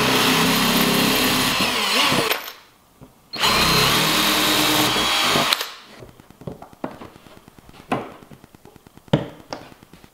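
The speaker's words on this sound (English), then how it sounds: "Just gotta get a little drill" A small power drill bores holes to mount a spoiler on a radio-controlled RS500 Cosworth car, with two loud sustained whirring bursts separated by a pause, followed by lighter tapping and clicking handling sounds.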